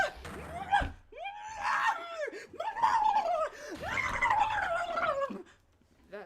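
A woman's scream in the Phoenix Wright: Ace Attorney courtroom game, a few rising, wavering shrieks cut by short pauses, loud and close, tailing off into quiet at the end.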